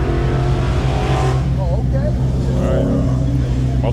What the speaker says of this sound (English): Most of the cars are leaving. Y'all hear them.